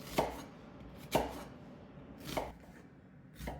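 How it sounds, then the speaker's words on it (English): A knife finely chops brown onions on a board in four distinct, evenly spaced cuts, close and crisp against a quiet background with no talking. "I have 2 brown onions here. We are going to finely chop them."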